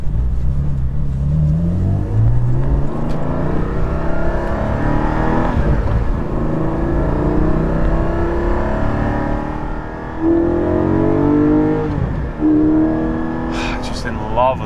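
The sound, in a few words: Porsche 718 GT4 engine revving, intake induction sound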